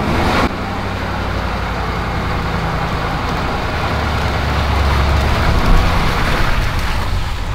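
A Ford Super Duty pickup on Michelin LTX AT2 all-terrain tires struggles for grip on ice, giving a continuous loud engine drone and tire churn that rises toward the end as the wheels spin.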